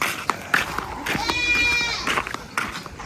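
Goats fed straw mixed with leftover flatbread bleat in a long, wavering cry between sharp rustles and knocks, close by, with a voice talking nearby.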